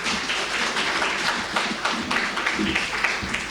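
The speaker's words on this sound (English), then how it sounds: "So, if you'd like to take the podium, Adja, let's give him a round of applause." Steady crowd applause, dense clapping with no pauses throughout, moderately loud and filling the room.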